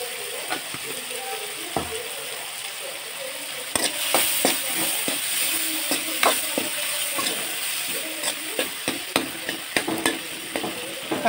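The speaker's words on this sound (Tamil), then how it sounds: "தக்காளி கொஞ்சம் வதங்கட்டும்" Tomatoes with green chilli and a little turmeric sauté in a pan for masala dosa filling, giving a steady soft sizzle broken by repeated scraping and clinking stirring strokes, close and moderately loud throughout.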